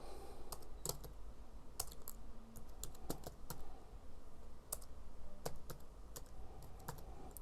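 Computer keyboard clacking as C# code is typed, irregular bursts of crisp close keystrokes with short pauses and no voices.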